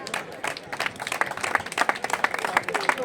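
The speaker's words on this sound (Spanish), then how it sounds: "Fortísimo aplauso" A crowd at a Galician masters cycling championship podium ceremony applauds, a dense, lively burst of clapping with uneven peaks and some crowd voices mixed in.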